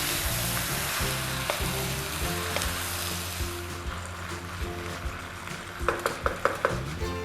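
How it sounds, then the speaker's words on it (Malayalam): Chicken pieces with turmeric sizzle steadily in a hot pan, with a spoon scraping and stirring through the frying and a few sharper clinks against the pan near the end. "ഒരു ടീസ്പൂൺ മഞ്ഞൾപ്പൊടിയും കൂടി ഇട്ടതിന് ശേഷം നമുക്ക് ചിക്കൻ നന്നായിട്ടൊന്ന് മിക്സ് ചെയ്ത് കൊടുക്കാം"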